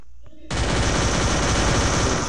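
After a brief quiet moment, rapid MP5 submachine gun fire in a video game erupts and continues in one loud, unbroken burst of fast shots.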